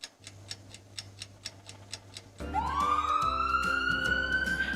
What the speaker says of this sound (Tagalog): Tunog ng ambulansya ang inyong narinig